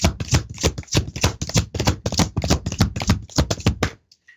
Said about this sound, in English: Shuffling my cards here.